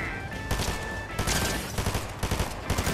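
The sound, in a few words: shotgun gunfire in Fortnite, from a video game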